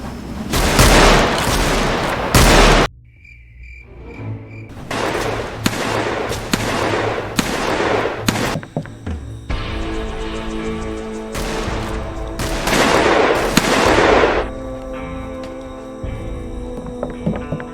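Gunshots in a Wild West roleplay video game ring out in loud clusters of booming reports with ringing echoes, separated by short pauses and some lingering tonal game sounds.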